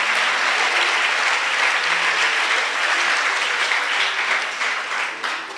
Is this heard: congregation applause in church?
yes